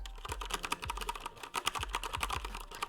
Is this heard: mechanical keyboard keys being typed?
yes